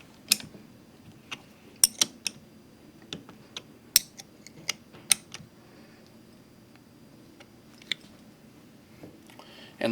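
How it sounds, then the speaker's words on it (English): Bolts on a pressure washer pump being tightened with a box end wrench give faint, scattered metallic clicks and ticks in a quiet room. "For the final tightening, I'll switch to a box end wrench, tip the pump on its side, and tighten those bolts down one final time."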